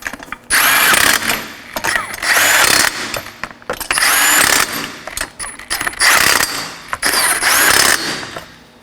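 An impact wrench or power tool drives the wheel lug nuts on a 2013–2019 Nissan Sentra in three loud, close bursts of whirring and rattling, each lasting about a second and a half, with short quiet pauses between them.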